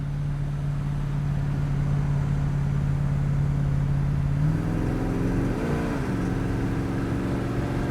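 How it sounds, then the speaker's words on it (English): A 1968 Mercury Cougar XR7 accelerating on the road, its engine droning steadily from inside the cabin before the pitch climbs and shifts through a change, loud and close with no talk. "Car has good pickup."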